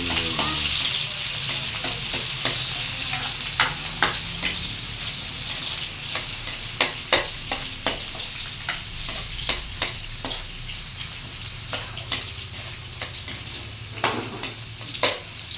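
Garlic sizzles in cooking oil in a pan, a steady crackling fry punctuated by repeated sharp clicks and scrapes of a utensil stirring, close and unaccompanied by speech.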